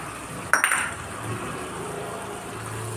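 Paneer pieces drop into masala gravy in a tawa with a single sharp metallic clink of a utensil against the pan, followed by soft low sizzling and stirring.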